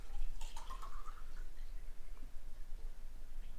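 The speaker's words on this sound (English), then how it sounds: "Let's actually start putting water in the thing and just give it a good test run" Water trickles and drips as it fills and circulates through the cooling system of a homemade electric go-kart. A short splashy burst comes near the start, then a quiet, steady hiss continues.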